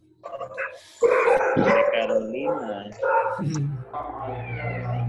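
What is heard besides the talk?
dogs barking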